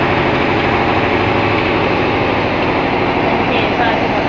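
A motorised meatball-forming machine for bakso and cilok runs continuously. It gives a loud, even mechanical drone and hum that never lets up, without any distinct pauses.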